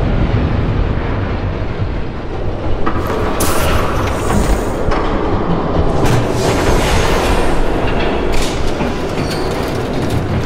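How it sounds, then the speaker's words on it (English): A train rumbles past in a Batman Telltale video game scene, a loud continuous roar of wheels on rails with metallic clanks and screeches throughout, no talking. "There's a train coming."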